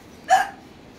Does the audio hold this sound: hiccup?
yes